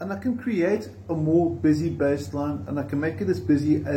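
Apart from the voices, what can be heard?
None of the usual background noises is heard.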